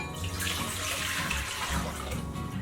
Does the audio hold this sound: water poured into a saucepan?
yes